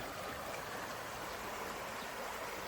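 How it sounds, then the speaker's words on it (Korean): A strong stream swollen after rain flows steadily, a continuous close rushing of water with no talking. "물이 잘 내립니다."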